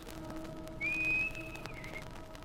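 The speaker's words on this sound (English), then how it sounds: "When I come back, I'll stand on the dock and whistle. Like this." A man whistles a single sustained signal call lasting over a second, with a steady rising tone that dips slightly near the end, clear and close over a low background hum.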